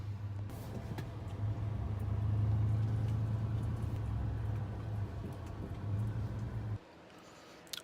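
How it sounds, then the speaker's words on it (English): A 2004 Ford F150 pickup with a 5.4 3-valve engine idles and rolls into a garage, a low steady engine rumble holding for several seconds before cutting off abruptly near the end, leaving quiet. "Pulling in the garage."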